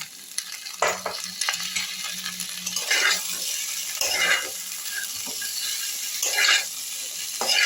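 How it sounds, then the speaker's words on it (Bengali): Ginger, garlic and onion paste fries alongside fried potatoes, hissing steadily while a spatula scrapes and clinks against the pan in repeated strokes, with no talking. "আলুগুলো যখন ভাজা হয়ে গেছে এই পর্যায়ে আমি একটু আদা রসুন পেঁয়াজ বেটে রেখেছি একসঙ্গে ওটা একটু দিয়ে দিলাম"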